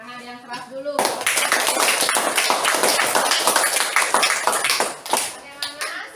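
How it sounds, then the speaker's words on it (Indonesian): A class of children claps loudly in a school lesson. A brief voice comes first, then sustained, fast, crowded clapping rolls on for several seconds and tapers off near the end. "Ya, tepuk tangan yang keras dulu."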